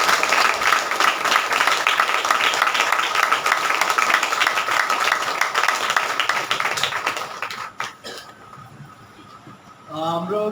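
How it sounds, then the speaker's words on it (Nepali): A congregation at a Saturday healing church service claps hands together in thanks, a dense sustained round of applause that fades out, followed by a few scattered claps and a voice speaking at the end. "सबैले ताली बजाएर यसुलाई धन्यवाद दिन्छौँ"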